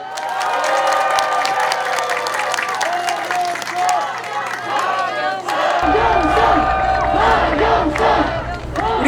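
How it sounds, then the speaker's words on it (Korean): A crowd of young mothers cheers and shouts at a political speech on childcare in Seoul, loud sustained whooping and clapping filling the whole stretch, with a voice over the crowd. "젊은 엄마들은 제가 이 얘기하니까 아주 뜨겁게 환호하시네"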